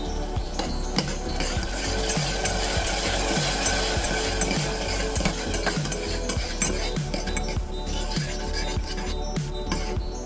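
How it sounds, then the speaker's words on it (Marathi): Tomato paste sautéing in oil in a pan, a continuous close sizzle with repeated scraping and clinking of a spoon stirring against the pan, no talk. "तर ह्यामध्ये घालूया टॉमॅटोची पेस्ट आता ही देखील आपण तेलावर परतून घेऊया"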